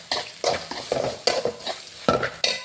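Small onions being stirred in a hot pan with a spoonful of curry masala, short bursts of sizzle and scraping that come in an uneven rhythm as the mixture is tossed, close and fairly loud.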